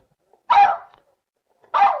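A small dog barks in a TV studio: two sharp, separate yaps about a second apart, close and clear against near silence.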